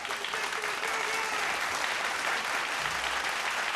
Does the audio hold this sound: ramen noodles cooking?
no